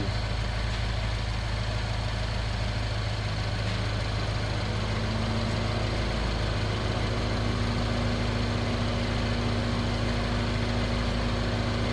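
A 2014 Mini Cooper engine, misfiring with a P0300 fault, idles steadily at about 1175 rpm, a continuous low rumble with a faint steady whine, close and alone with no talk.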